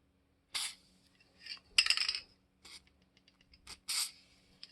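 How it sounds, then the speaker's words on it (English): Short close hisses of Tri-Flow lubricant sprayed into a folding knife, three or four quick bursts separated by quiet gaps, with faint small clicks from the knife between them. "Spray a bit of Tri-Flow in there."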